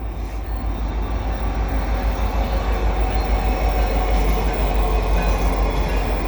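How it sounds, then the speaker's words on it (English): A Canadian Pacific mixed freight train led by heritage SD70ACU locomotives rolls past at Donagani, a steady loud rumble of wheels and cars with faint clickety-clack throughout. "comes a quick CP train here at Donagani"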